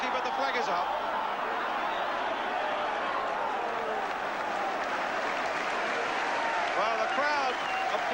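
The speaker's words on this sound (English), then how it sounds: "the crowd applauding that one-touch football by West Ham" A football crowd at a 1983 Division One match between West Ham United and Manchester United applauds West Ham's passing play, a sustained roar of clapping filling the stadium.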